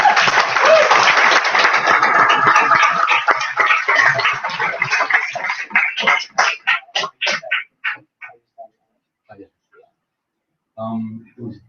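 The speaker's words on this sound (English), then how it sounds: "as a final round of applause, one really big one for them" A debate audience gives the speakers a big round of applause: loud, dense clapping that thins after about six seconds into slower scattered claps, then stops. A voice briefly speaks at the very end.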